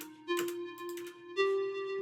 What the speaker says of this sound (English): sort of a breathy little flute sound